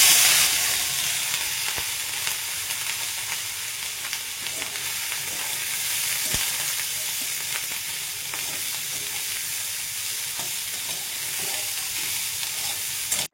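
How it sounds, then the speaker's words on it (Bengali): Shrimp and fish frying in a pan, a continuous loud hiss and crackle of hot oil that holds steady throughout, with occasional faint knocks and no talking. "এই দু রকমই মাছ আজকে ভেজে রেখে দেবো"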